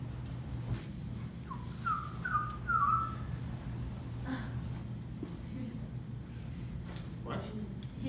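A person whistles a few short, rising notes in a lecture room, the brief tones standing out over steady room hum and background noise.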